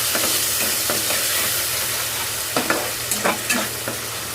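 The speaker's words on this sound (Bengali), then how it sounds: "এবারে মশলাটাকে আমি এটা নাড়িয়ে চাড়িয়ে নিচ্ছি।" Spice paste frying in a pan as it is stirred, a continuous close sizzle with scraping strokes of the spoon, a few sharper clacks toward the end.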